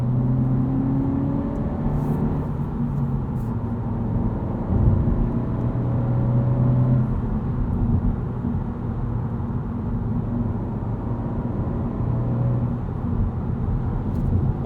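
A 2022 Honda Civic Si sedan's engine drones steadily through a canyon drive, low rumble holding throughout with gentle rises and dips in pitch as revs are blipped during downshifts, heard from inside the cabin with no talking.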